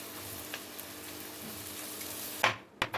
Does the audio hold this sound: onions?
yes